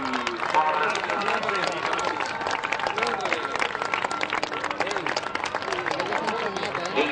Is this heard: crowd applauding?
yes